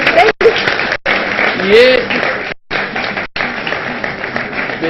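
A studio audience on a Ramadan morning TV show applauds, dense clapping running throughout under a host's voice, with brief cuts of silence.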